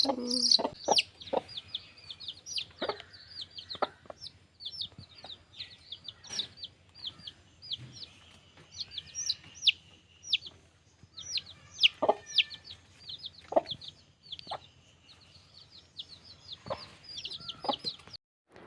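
Young chickens cheep repeatedly in high, rapid bursts during vaccination, close by, with a few scattered clucks and soft shuffling underneath.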